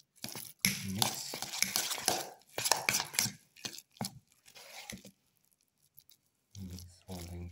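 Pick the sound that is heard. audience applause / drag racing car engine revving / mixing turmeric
mixing turmeric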